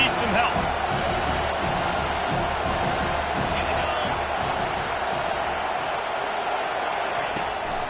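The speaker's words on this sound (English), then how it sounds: "This crowd rising up, sensing that its defense needs some help." A football stadium crowd rises into a sustained, loud roar of cheering for the home defense, a dense wall of voices that stays steady throughout while a commentator talks over it.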